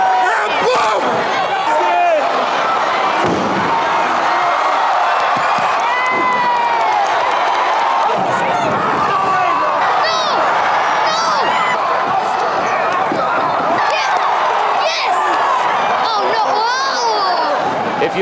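Packed wrestling arena crowd roaring and jeering continuously at the villains, a dense wall of shouts, whistles and cheers with individual voices yelling through the din.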